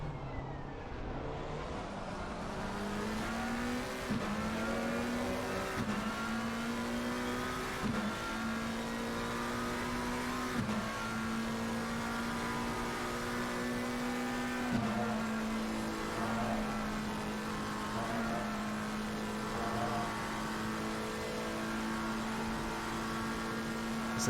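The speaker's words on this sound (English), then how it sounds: "Once again, a lovely engine sound of the McLaren Evo 2." A McLaren Evo 2 GT race car in Assetto Corsa Competizione at Spa Francorchamps revs through repeated upshifts, the engine note climbing and stepping up with each gear change, then holds a steady high drone.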